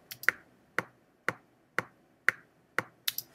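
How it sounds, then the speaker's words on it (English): A GarageBand metronome gives crisp, evenly spaced clicks about twice a second, close and clear, with nothing else around them. "That's your metronome."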